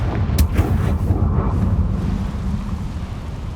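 Blast of the Confringo fire spell in the Hogwarts Legacy video game: a sharp crack followed by a deep, rumbling boom that rolls on and slowly fades, loud and dense throughout.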